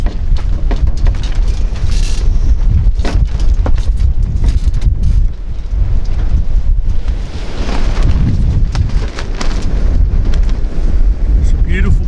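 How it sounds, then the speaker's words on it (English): Strong, relentless wind buffets the microphone on the coast at Cape Lookout, a loud continuous roar with gusting rumble that never lets up. "that wind is absolutely relentless again"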